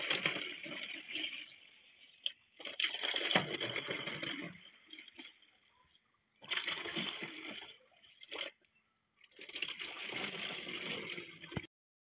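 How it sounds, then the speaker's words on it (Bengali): Water running into a bottle in a home kitchen, coming in several separate bursts of steady splashing and gurgling flow with short quiet gaps between them, moderately close. "বোতলে জল ভরতে হবে"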